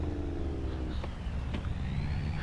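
A school bus in Farming Simulator 25 rolls past on a snowy Minnesota highway, its engine a steady low hum that swells and fades with a brief whine, fairly faint and with no voices.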